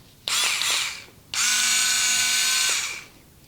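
Parkside 4V cordless electric screwdriver whirring in two bursts, a short run then a longer steady one of about two seconds, close and loud with a slight ratcheting buzz, no talking.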